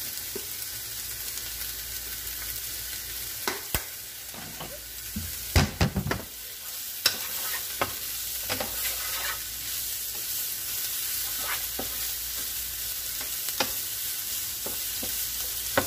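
Cubed steak and potatoes sauté in a pan with onion powder and dried cilantro, giving a continuous close sizzle punctuated by utensil scrapes and a cluster of sharp clatters near the middle.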